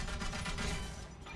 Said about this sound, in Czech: Vystřelil, ale on střílí rychle